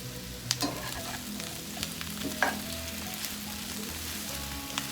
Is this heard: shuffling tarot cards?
no